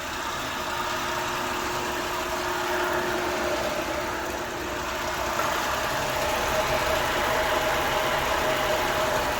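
A 2006 Ford Explorer with a 4.0 SOHC engine runs at idle while a fan blows air, a steady broad rushing whoosh over a low engine hum, close and constant throughout.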